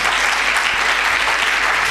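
Dense, loud, unbroken clapping from a church congregation during a Hindi-Urdu sermon, a continuous even roar of many hands with no voices standing out.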